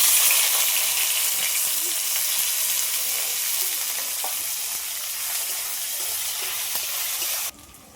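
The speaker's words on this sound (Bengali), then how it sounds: "এবার ফোড়নে দিয়ে দিচ্ছি জিরে তেজপাতা আধা বাটা করে রাখা পেঁয়াজ" Cumin, bay leaf and half-ground onion paste hit hot oil in a kadai, giving a loud, bright hiss that slowly settles, then cuts off abruptly near the end, with no voices.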